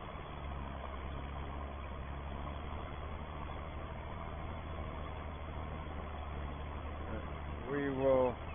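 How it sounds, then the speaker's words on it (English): A Ford 7810 farm tractor engine runs at a steady low idle throughout, a constant deep drone with a brief louder rattle near the end. "At the moment, it's going to be our main workhorse tractor, this one."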